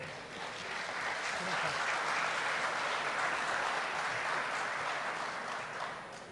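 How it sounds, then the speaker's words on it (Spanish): A lecture audience at an agricultural conference gives sustained applause, a dense wash of clapping that swells quickly and holds steady for several seconds before easing slightly. "Recíbanlo con un aplauso, por favor."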